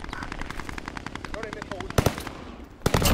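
Rapid automatic gunfire in the video game Warzone, sustained bursts of close shots, with heavier louder cracks toward the end and a voice speaking over the action.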